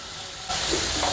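Onions sautéing in a pan for egg curry, a close, continuous hissing sizzle that suddenly swells louder partway through and stays strong.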